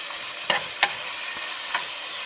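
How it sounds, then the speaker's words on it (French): Food being stirred in a cooking pot, a soft sizzling bed broken by three or four brief scraping strokes of a utensil, close up with no talk. "Faut bien mélanger à chaque fois."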